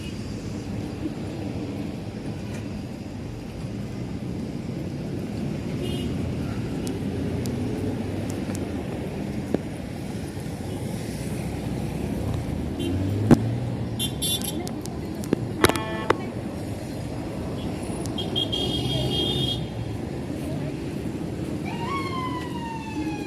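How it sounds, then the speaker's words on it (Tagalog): Continuous city road traffic rolls along as a dense, steady rumble, punctuated by a few sharp clacks and brief horn-like tones, with a distant siren-like sweep near the end. "O, traffic na."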